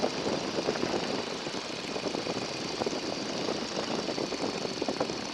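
A 1942 Boeing Stearman biplane's engine, throttled back to about 1,500 RPM, runs at a steady, lowered idle-like drone, constant and fairly close, with no talking.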